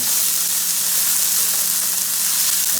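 Food sizzles steadily in hot oil in a pan on the stove, making a continuous, close, dense frying hiss with no talk for the whole stretch.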